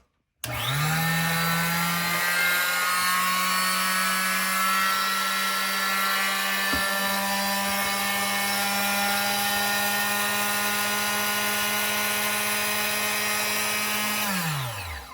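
A WARRIOR 0.9 amp, 2-inch mini cut-off saw whines steadily at high pitch for about fourteen seconds, starting abruptly and spinning down at the end, loud and close.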